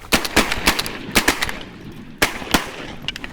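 Loud, sharp shotgun blasts fired at ducks during a hunt, several quick shots in bursts with short echoing tails outdoors.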